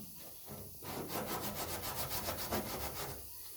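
Sandpaper rubs back and forth in quick, even strokes across a 1969 B-body car's body panel, a close, rhythmic scratchy rasp that starts after a short pause and stops just before the end.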